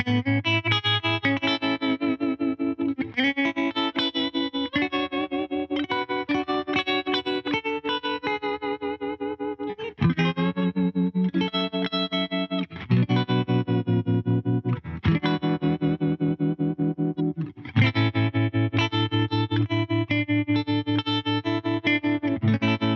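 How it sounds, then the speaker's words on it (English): Electric guitar played through a Surfy Industries Surfytrem pedal in tremolo mode, chords pulsing in a steady rapid volume wobble across several sustained phrases, close and loud with no talking. "Let's hear what this pedal sounds like in tremolo mode,"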